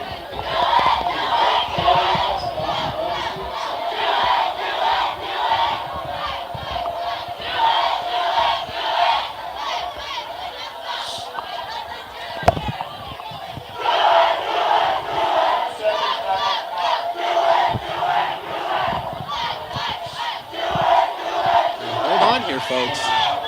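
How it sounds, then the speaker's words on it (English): Pius X fans at a varsity football game chant their Gameway Do It cheer, loud rhythmic shouting from a large crowd that keeps going in waves, with a sharp bang midway. "Pius does their Gameway Do It cheer"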